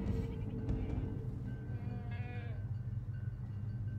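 Goat bleating in the Medal of Honor 2010 video game, a few wavering bleats early on over a dense, steady rumble of game background noise.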